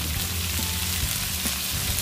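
Shrimp and asparagus fry in a hot pan for a Thai stir-fry, giving a loud, even sizzle with occasional soft clicks of stirring, close up and uninterrupted.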